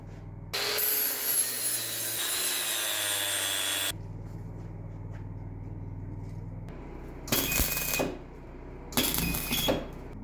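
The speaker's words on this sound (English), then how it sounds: "All we got to do is grind these plug welds smooth." Angle grinder smoothing plug welds on a welded metal shelf frame, a loud close grinding roar for about three seconds, then a quieter hum, followed by two short harsh grinding bursts.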